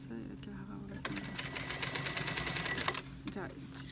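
A sewing machine stitches a zipper onto a sweat jacket, running in a fast steady rattling burst for about two seconds before stopping, with a person talking quietly before and after.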